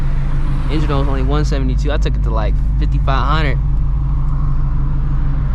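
A supercharged Shelby GT350 Mustang runs with a steady loud low engine drone throughout, while someone talks over it for the first few seconds.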